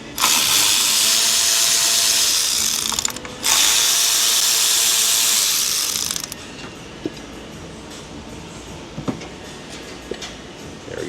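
A hand ratchet clicks in rapid, loud bursts while loosening ignition coil bolts on a Chrysler 3.6 engine, with a short pause mid-run, then quieter scattered clanks and taps of tools.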